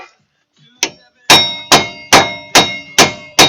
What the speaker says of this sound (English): I'll beat on these old bolts to help drive it out